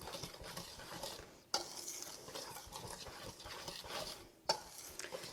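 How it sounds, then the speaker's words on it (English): A whisk scraping and stirring dry ingredients, flour with baking soda and salt, in a bowl for cinnamon swirl bread, giving a soft continuous rustle with two sharper knocks against the bowl's rim. "Whisk this together."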